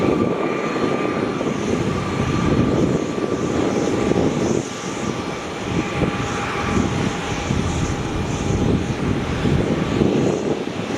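An Airbus A330 jet airliner at Melbourne Airport roars loudly and continuously close by, a broad sustained engine rush with a high whine layered on top.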